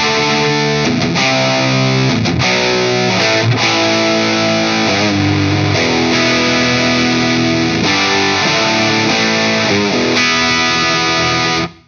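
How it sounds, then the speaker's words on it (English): Heavily distorted electric guitar through a Wampler Ratsbane distortion pedal plays chords and short riffs, loud and saturated, with sustained crunchy tones and brief pauses between phrases. "get a little bit more of a tighter sounding distortion or classic distortion"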